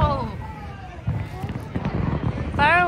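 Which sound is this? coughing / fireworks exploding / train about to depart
fireworks exploding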